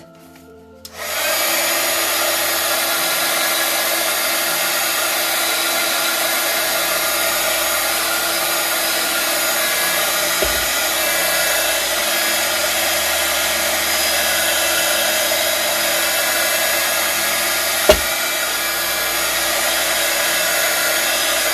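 A hair dryer blows over gesso on a glass jar, a loud, steady roaring hiss that starts after a second and runs unbroken, with a faint click partway through.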